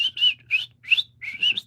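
A woman whistling to her pet birds: five or six short, breathy, rising and wavering notes in quick succession, close and fairly clear over a faint low hum.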